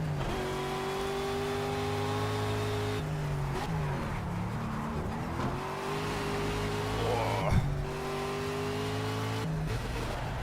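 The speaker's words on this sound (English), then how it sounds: "considering it's got a 5-litre V8. It does make a good noise." A 5-litre V8 race car engine in the video game Project CARS, revving steadily and loudly with brief dips and shifts between gears as it drives a lap, alone with no talk.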